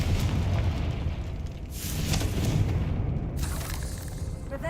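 Confringo fire spells blast in Hogwarts Legacy, loud booming explosions with crackling debris that rise and fall in two or three surges over a dense rumbling bed.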